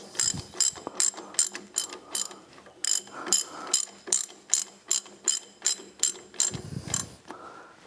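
Bolts being fitted into a race car's suspension during a rebuild give a close, steady run of sharp ratchet clicks in quick regular bursts, with a brief pause midway and no talk.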